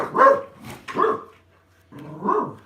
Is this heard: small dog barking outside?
yes